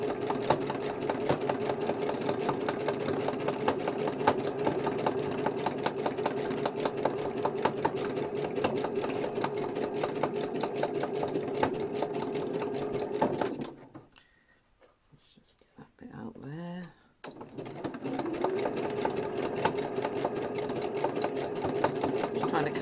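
A sewing machine stitches slowly along the outer edges of a gardening journal cover trimmed with tatting, its steady whirring running continuously, then stopping briefly for a few small clicks before resuming.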